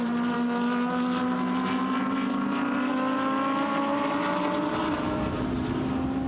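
GT race cars roar past at Paul Ricard circuit, a dense, loud, sustained engine drone with rising and shifting pitch as the pack goes through, no voices heard.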